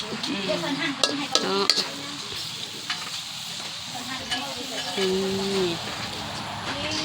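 Cooked laab being dry-roasted and stirred in a pan outdoors during a community canal work break: soft scraping and faint sizzling under nearby talk, with a few sharp utensil clinks and animal-like calls in the background.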